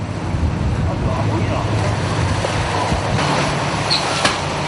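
Rough sea waves slosh and wash around a snow crab fishing boat at night, mixed with blustery wind rumble and engine-like drone in a constant, fairly loud wash of noise.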